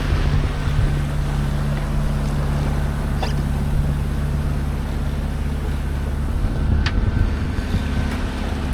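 A sailboat motor-sailing under engine power along the Croatian coast near Korčula, with a steady low engine drone and constant wind rumble across the microphone, no voices.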